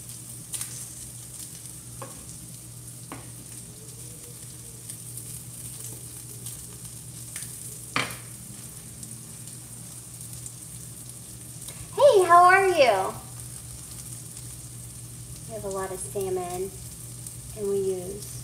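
Sausages fry in a pan with a faint, steady sizzle and a few light clatters of turning, while a voice speaks briefly over it.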